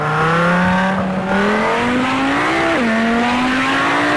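A race car in the Project CARS 2 video game drives with a loud, close engine drone that climbs steadily in pitch through the gears, with a brief dip at a shift, filling the whole stretch with no talk.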